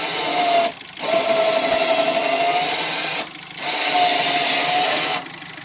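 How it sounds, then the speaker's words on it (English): On a 1995 Suzuki Vitara with an offroad bumper, a winch pulls the vehicle up through a snatch block, whining loudly in three runs separated by short pauses. "I'm going to winch it using a snatch block and try to pull it up"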